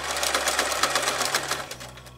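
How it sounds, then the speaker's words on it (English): A domestic sewing machine stitches in the ditch on a quilt binding with an edger foot, a rapid steady mechanical patter with a low motor hum, close and alone. "Now we're going to stitch in the ditch, and I'm going to use my edger foot."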